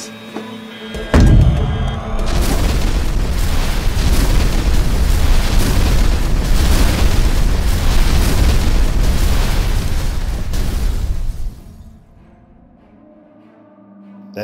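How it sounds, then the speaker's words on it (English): A large explosion hits with a sudden deep boom, then a long, heavy rumbling roar that holds loud for about ten seconds before cutting away to near quiet. "That explosion was picked up on every seismic device by every intelligence agency on the planet."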